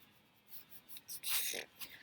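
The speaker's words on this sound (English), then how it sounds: "I've got my red crayon here, and I'm just going to color whatever shape starts coming into my mind" A red crayon drawing on paper, with short scratchy strokes rubbing across the surface in uneven bursts, quiet and close, growing denser toward the end.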